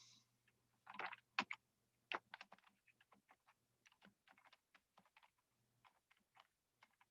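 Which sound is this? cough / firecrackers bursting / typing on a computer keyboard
typing on a computer keyboard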